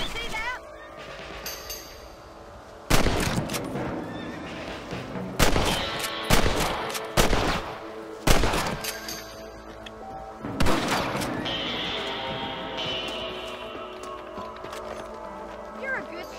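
Sharp gunshots ring out at rabbits in Red Dead Redemption, a handful of separate loud cracks spaced apart over horse hooves clopping and wind, with a voice talking.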